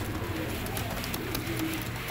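Pigeons coo softly in a breeder's loft in Faisalabad, a few low murmuring coos rising faintly from a steady background hiss, no voices heard.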